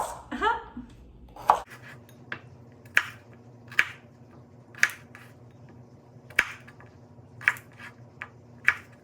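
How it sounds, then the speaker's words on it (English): A knife chops potatoes into half wedges on a board, about nine crisp, evenly spaced cuts following some brief rustling, close and clear over a low background hum. "cut potatoes in half wedges"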